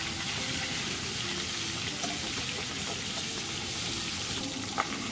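Boal fish frying in hot oil, a dense steady sizzle and bubbling with faint stirring sounds and a brief clink near the end.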